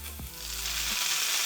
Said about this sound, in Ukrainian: На попередньо розігріту поверхню, гарно розігріту, кладу грибочки.